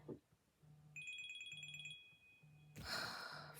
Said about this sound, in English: Let's pause for phone call.